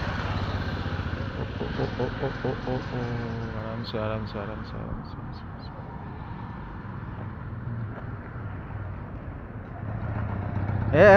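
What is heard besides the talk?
motorbike ridden by a boy learning to ride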